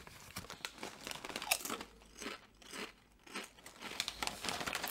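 Great Lakes kettle-cooked purple potato chips crunch in irregular bursts of close, crisp chewing, with pauses between bites and no talking.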